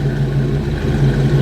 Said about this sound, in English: There you can hear that V8